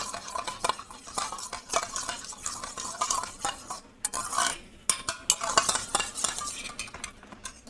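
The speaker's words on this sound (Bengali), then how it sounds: "এই দইটা একটু ফেটিয়ে নেব" Yogurt (curd) being whisked in a bowl for an Odisha-style dahi baingan, a quick irregular run of scraping, clinking strokes of a utensil against the bowl, close and unaccompanied by speech.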